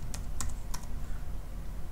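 Three quick, crisp clicks of computer keyboard keys being pressed during an Unreal Engine lesson, spaced unevenly over a low steady room hum, with no voices.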